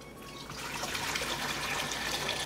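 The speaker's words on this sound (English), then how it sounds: "I'm going to get a big pot, start the gas. And I have hot boiling water." Hot boiling water pours steadily into a big pot on a gas stove, a dense continuous splashing rush from start to finish with no voices.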